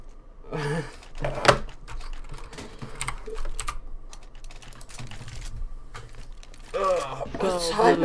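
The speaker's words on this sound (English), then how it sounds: "I see you just type again" Computer keyboard typing during a CSGO gaming session, rapid clicky keystrokes in irregular bursts close to the microphone, with people talking over them at the start and end.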